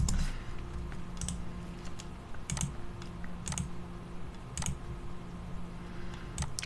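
Typing on a computer keyboard while entering network commands, with soft irregular key clicks scattered over a few seconds against a steady faint hum.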